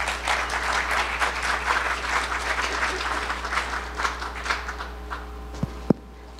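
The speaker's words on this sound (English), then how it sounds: "Let's welcome them both with a warm round of applause." Audience applause welcoming two speakers at a Utah data science event, a steady patter of many hands that thins out near the end, followed by a couple of sharp handling knocks and a low room hum.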